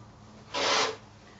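A single rotary cutter stroke slicing across stacked quilting fabric strips to cut 5 inch squares, a short soft rasping swipe heard close and alone in a quiet room.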